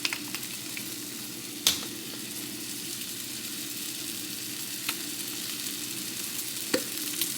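Garlic paste fries in a pan with a steady, close sizzle, broken by a few sharp clicks and pops, and no one speaks.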